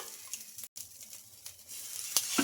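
Rava dosa batter fries on a hot pan over low to medium flame, giving a soft, steady close sizzle with faint crackles and a brief sharp pop near the end.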